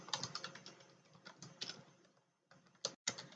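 Fingers tap out a command on a computer keyboard in a quick, quiet run of clicks, pausing briefly before a final couple of keystrokes.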